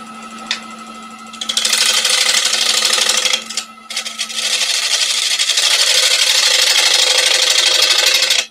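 A bowl gouge held at a shallow angle cuts into wood spinning on a lathe, producing a loud, steady scraping hiss in two long passes with a brief pause between, over the lathe motor's low hum.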